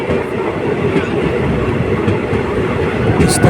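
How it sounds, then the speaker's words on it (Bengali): A passenger train with ten general coaches runs on the rails close by, a loud continuous rumble with rhythmic wheel clatter throughout and a brief squeal near the end. "গ্যালোপিং ট্রেন বলাই ভালো দশটা জেনারেল কোচ নিয়ে এই ট্রেনটি ছুটে চলে"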